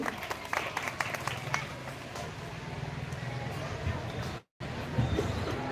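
An audience at a school Independence Day celebration claps steadily for a group of girls. The dense, continuous applause carries crowd murmur and chatter, cuts out briefly near the end, then resumes.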